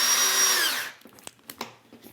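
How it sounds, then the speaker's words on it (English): A power drill whines as it bores into an appliance overlay door panel, then spins down and stops, followed by a few light clicks and taps. "you may want to pre-mark or pre-drill your holes, taking care that your drill bit doesn't go all the way through the panel"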